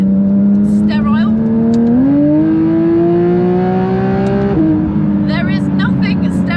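Porsche 992 GT3 RS engine accelerating, a loud, close high-revving howl climbing in pitch through the gears with a brief shift, while someone talks over it.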